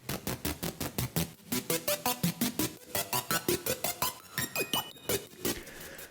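Serum synth patch with warp turned up from off, a pulsing repeated tone whose pitch climbs steadily, loud and alone with busy bright overtones and no talking.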